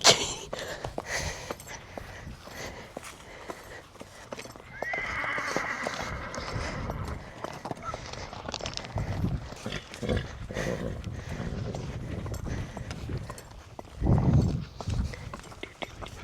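Trick-riding horses at a rodeo, with a whinny partway through and hooves clip-clopping alongside steady movement noise and a burst of louder activity near the end; no one speaks.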